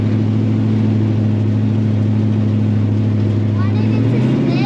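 A 1955 Chevy Gasser spinning its tires, its engine holding a loud, steady low roar that climbs slightly near the end, close by, with voices talking over it.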